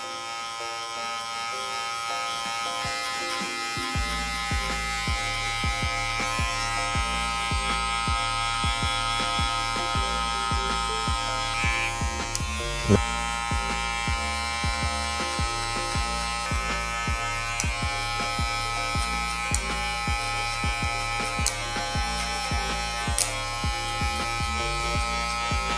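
Electric hair clippers with a 1.5 guard buzz continuously while cutting a fade, a loud close electric hum with short strokes and light clicks through the cut, and nobody speaks.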